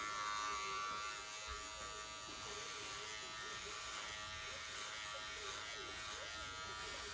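A Monster fade/taper hair clipper runs with a steady electric buzz, close and continuous throughout, with no talking.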